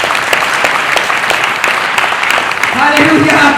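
A church congregation at a Palm Sunday service claps steadily and loudly in unison, with a voice speaking over the clapping toward the end.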